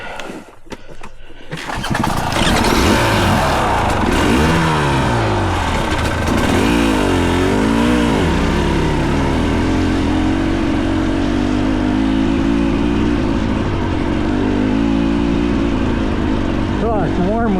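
A motorcycle revs and accelerates hard in first gear on a ride, its loud engine climbing and falling in pitch close by, with wind rumble and no talk.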